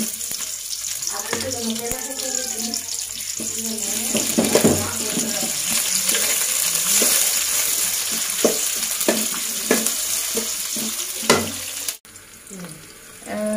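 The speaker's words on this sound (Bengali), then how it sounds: "পেঁয়াজটা একটু ভাজা হয়ে গেছে" Onions frying in oil in a pan for a bottle gourd and snakehead fish curry, a steady close sizzle and hiss broken by scattered clinks and scrapes from stirring.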